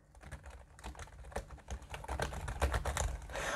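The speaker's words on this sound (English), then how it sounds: "Let's just see how the keys sound." Typing on a Bluetooth keyboard for mobile devices, a quick irregular run of close, crisp key clicks and taps with no talking.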